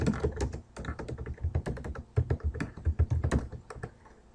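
Rapid keystrokes clatter on a computer keyboard as website navigation links are entered, an uneven run of close, crisp taps with brief pauses between bursts and no talking.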